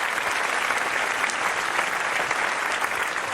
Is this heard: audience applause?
yes